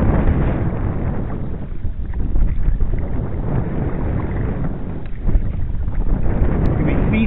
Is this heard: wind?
yes